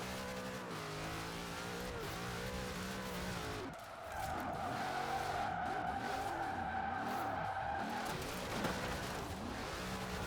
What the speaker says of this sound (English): You just drift here.